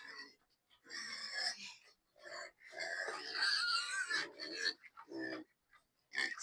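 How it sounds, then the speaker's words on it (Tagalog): Piglets grunting and squealing before feeding, close bursts of wheezy, high-pitched grunts separated by brief pauses, loud and alone. "ito na naman ang aking papakainin, ang aking mga biik"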